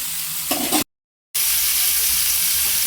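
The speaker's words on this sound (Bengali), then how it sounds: "ভালো করে একটু তেলে নাড়াচাড়া করে নিই, তেলে একটু নাড়াচাড়া হোক।" Dried red chillies and mango stirred in hot oil in a pan give a steady bright sizzle with scraping stir strokes near the start, cut by a brief silent dropout before the frying hiss resumes.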